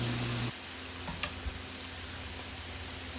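Shrimp sizzle in a hot pan with a dense, even crackle that runs throughout, close and steady, with a faint tick near the start and no talking over it.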